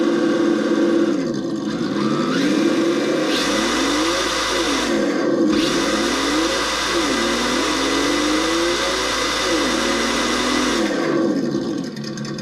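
A Traxxas TRX-4 RC truck's ESS Dual sound system plays a simulated engine at maximum power, a loud continuous drone that rises and falls in repeated revving sweeps, heard alone.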